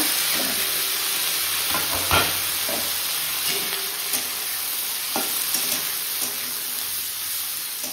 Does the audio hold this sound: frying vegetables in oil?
yes